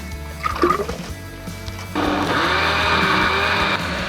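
A kitchen blender whirs up a tomato gazpacho, loud and steady after a short quiet stretch of clinks and handling, the motor running continuously until a slight change near the end.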